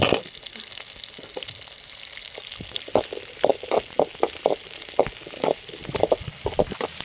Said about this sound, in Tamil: நல்லா வதக்கணுங்க வதக்கிறதுல தான் துவையல் வந்து கெட்டு போகாமல் இருக்கும்